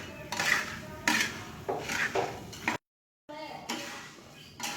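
Pure coffee beans are stirred while roasting in a metal pan, giving repeated scraping, rattling sweeps in bursts with a brief silent gap, close and moderately loud.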